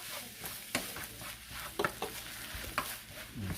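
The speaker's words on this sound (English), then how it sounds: "we're going to go ahead and fry this rice up a little bit. Get it back nice and hot." Rice fries with a soft, steady sizzle in a hot pan, while a utensil scrapes and stirs with occasional light taps, quiet and close.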